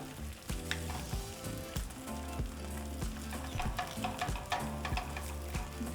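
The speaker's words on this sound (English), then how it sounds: "So now I'm just going to use the grease and cook my tortillas." Tortillas frying in chorizo grease in a pan produce a soft continuous sizzle and crackle, fairly quiet, with a few light scraping taps, and no one speaking.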